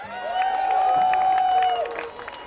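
A rodeo crowd at the 2016 Canoe Mountain Big 4 Rodeo in Valemount, BC cheers and claps, a sustained wash of voices and applause beneath a drawn-out whistle or holler.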